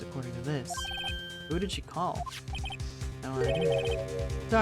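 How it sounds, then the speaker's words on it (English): A synthesized phone ringtone in the Phoenix Wright: Ace Attorney Trilogy game chimes in bright repeating tonal bursts, heard twice amid steady speech and background music. "Heard a phone ring just now. One of those newfangled ringtones."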